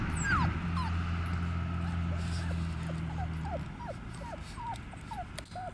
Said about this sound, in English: And you're such a good puppy.